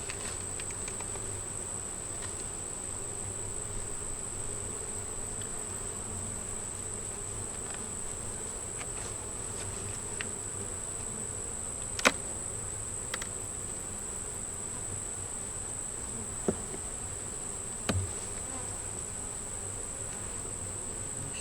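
Honeybees drone steadily around an open hive in the evening, a continuous even buzz with a few faint clicks and taps scattered through, and no voices.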